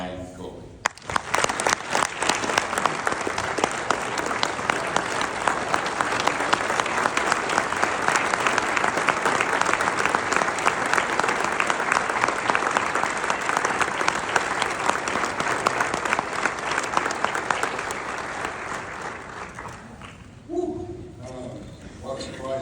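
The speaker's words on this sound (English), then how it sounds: "So please help me with your applause and introduce the newest member of the MAATA Hall of Fame 2025 class, Brian Coley." Loud, sustained audience applause at the MAATA Hall of Fame induction ceremony for Brian Coley, a dense roar of many hands that holds for about twenty seconds before thinning out, with scattered voices as it fades.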